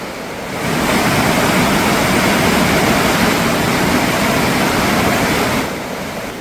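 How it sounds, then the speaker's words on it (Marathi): Rushing stream water in Kashmir's Doodhpathri valley, a steady broadband roar that fades in, holds loud and even throughout, then eases slightly at the end, with no voices. "मार्ग पाण्याच्या जवळ जाईल तसा आवाज खूप छान आहे"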